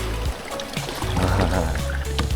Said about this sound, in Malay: Air masuk.